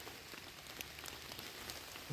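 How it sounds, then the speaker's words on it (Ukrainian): Rain drips from trees in an autumn forest, a faint, steady patter with scattered heavier drops tapping irregularly against a soft background hiss. "Чують як дощ з дерев паде."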